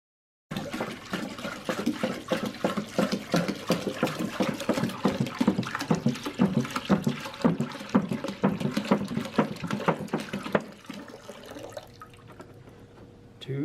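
Kentwood artesian water pours into a beer fermentation vessel in a bubbling, splashing stream that runs steadily for about ten seconds, then stops, leaving quiet room tone.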